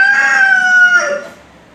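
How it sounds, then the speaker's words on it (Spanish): A single rooster crow, loud and close, a clear drawn-out call that fades at the end. "El gallo."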